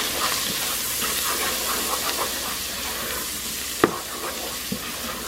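Chicken soup base with black pepper and poultry seasoning cooks in a pot, giving a steady hissing sizzle with a few light knocks of a stirring spoon, one sharper clack near the end.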